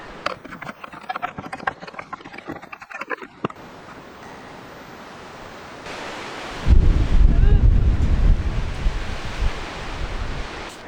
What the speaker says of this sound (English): So as you can probably tell, it's pretty windy today.